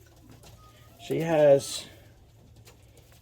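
A racing pigeon hen gives a single short, throaty coo close by, standing out against a quiet room, with a person speaking briefly around it.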